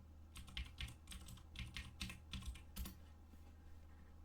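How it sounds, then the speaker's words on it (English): Quiet bursts of computer keyboard typing come in short clusters of clicks, with a final sharper keystroke and then a near-silent pause. "I should just type in soundtrack"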